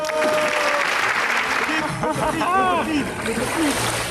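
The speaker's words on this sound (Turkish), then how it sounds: "Alkış." Clapping for a toddler taking steps at a beach club, a busy patter of hands mixed with splashing water and outdoor bustle, while adult voices talk over it.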